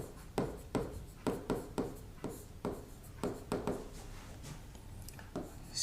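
Pen writing notes by hand on paper, a series of short scratchy strokes and taps in quick irregular bursts, close and fairly quiet, with brief pauses between words and no talking.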